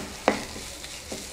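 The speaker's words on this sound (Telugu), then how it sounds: "కొత్తిమీర పొట్లకాయ ముక్కలకి కలిపేటట్టు బాగా కలుపుకుందాం." Snake gourd fry with coriander being stirred in a pan off the heat: a faint, quiet stir with a couple of soft scrapes and light clinks, and no talking.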